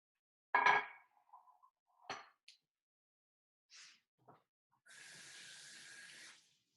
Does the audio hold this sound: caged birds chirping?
no